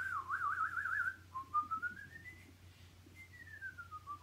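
A person whistles alone, first a quick warbling trill, then slow gliding notes that rise and fall in pitch, close and fairly soft against a faint background hum.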